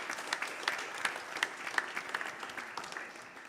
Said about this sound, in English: So let's have a round of applause for Vasudha.